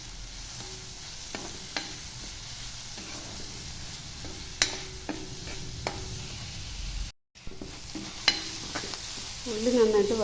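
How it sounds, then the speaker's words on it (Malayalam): Chopped onions sautéing in a pan for wheat upma, a steady soft sizzle with occasional stirring clicks and scrapes of a spoon against the pan, close up with no talk. "ഉള്ളി നന്നായിട്ട് വഴന്നിട്ടുണ്ട്."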